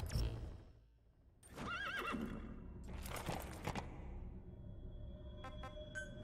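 D-Horse, the horse in the Metal Gear Solid V video game, gives a clear, loud neigh that rises and wavers, followed by softer snorting and faint game tones.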